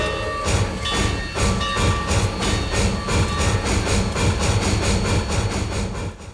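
A train rolls past steadily with a continuous heavy engine rumble and a regular clickety-clack of wheels over rail joints, loud and close throughout.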